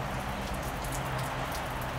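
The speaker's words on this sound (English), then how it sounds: "They love the rain." Rain falling outside near a plant room, a steady, soft wash of dense raindrops on surfaces, no voices.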